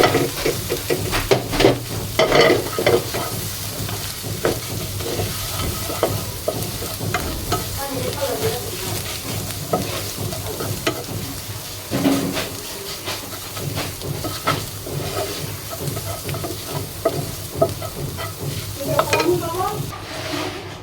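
Egg frying in a pan greased with a little brushed-on oil, a steady broad sizzle and hiss running throughout with scattered crackles and occasional stirring scrapes, fairly close and continuous.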